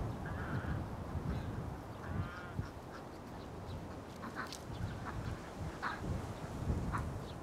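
Ducks in a rural village farmyard quack intermittently at a moderate distance over a steady, noisy outdoor background, with a few sharper calls standing out and no talking.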